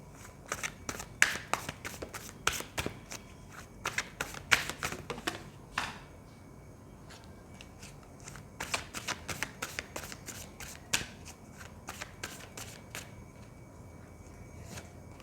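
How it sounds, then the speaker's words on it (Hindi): A deck of tarot cards being shuffled by hand, with rapid bursts of crisp riffling and flicking that come in quick clusters, pause briefly, then resume. The sound is close and fairly quiet, with no talking over it. "तो जब तक मैं कार्ड शफल कर रही हूँ"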